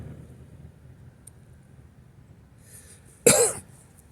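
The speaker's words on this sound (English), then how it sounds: "I was trying to keep from coughing," One person gives a single short, harsh cough near the microphone outdoors in heavy, moist air, following several seconds of quiet wind-like background.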